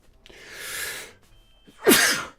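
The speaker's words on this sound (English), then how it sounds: "I gotta sneeze." A person draws in a breath and then lets out one loud, close sneeze.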